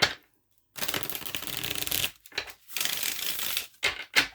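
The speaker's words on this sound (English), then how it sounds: "One more shuffle." Cards being shuffled close by in several quick riffling bursts separated by short pauses.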